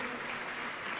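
Audience applause for children at a jazz lesson about big bands, a brief dense patter of clapping from a crowd, steady and fairly faint.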